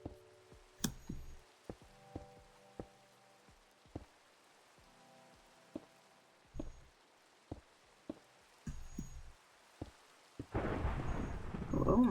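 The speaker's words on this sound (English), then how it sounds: "The thunder's too much." Minecraft thunderstorm: scattered sharp raindrop ticks and low rumbles of thunder through a quiet stretch, then a loud burst of heavy rain near the end.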